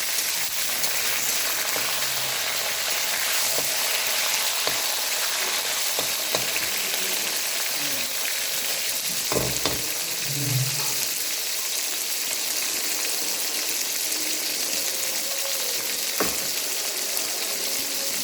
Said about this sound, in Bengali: আর সবজিগুলোকে আমি ভেজে ভেজে তুলে নেব।